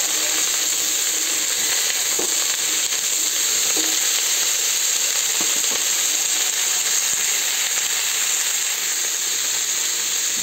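Cauliflower frying in leftover fish oil in a wok gives a constant, dense hissing sizzle at even loudness throughout, with a few faint scrapes.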